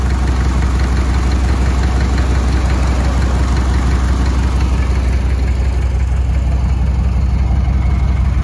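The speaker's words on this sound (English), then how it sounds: "Idling smooth for the moment." A diesel truck with a fuel injection pump problem idles smoothly for now. The engine gives a loud, close, continuous clattering rumble with a steady rhythmic knock and no speech.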